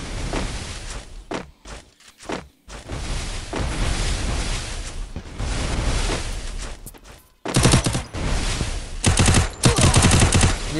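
Gunfire in a video game shootout: dense bursts of rapid automatic fire and sharp single shots, loud and close, with brief pauses between volleys and a heavier, sustained barrage near the end.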